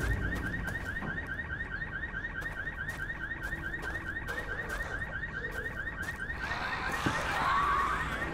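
A wailing electronic alarm in the zombie survival game Dead Island: Riptide, a rapid repeating pulsed tone cycling steadily for several seconds over ambient noise, with a louder burst of other sound near the end.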